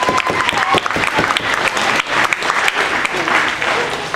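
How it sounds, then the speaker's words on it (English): Lively audience applause fills a comedy hypnosis show, dense clapping from a crowd with a few voices and cheers mixed in, loud and sustained throughout. "Give them a big round of applause"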